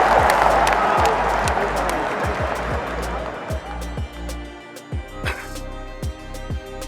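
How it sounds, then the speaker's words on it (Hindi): Crowd applause and cheering during Navjot Singh Sidhu's speech honouring Manmohan Singh, loud at first and then fading into scattered claps. "ठोको ताली"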